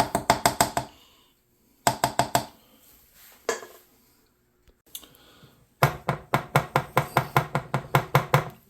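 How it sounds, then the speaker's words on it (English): Several quick bursts of sharp, rapid knocks from a cheesecake pan of Irish cream cheesecake batter being tapped against a hard surface, each burst a fast run of loud, close raps separated by short pauses. "Just a couple light taps."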